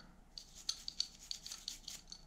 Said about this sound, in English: try to get some of the stuff off the outside of the clamp